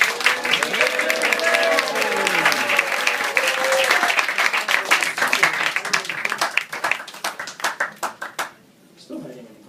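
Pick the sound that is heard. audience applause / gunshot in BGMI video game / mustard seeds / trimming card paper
audience applause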